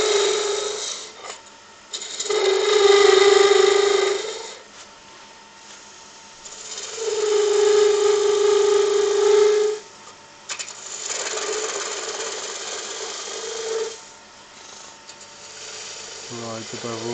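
Skew chisel cutting a spinning wood workpiece on a lathe, producing sustained hissing, rasping passes of a few seconds each separated by quieter gaps, with the lathe humming steadily underneath.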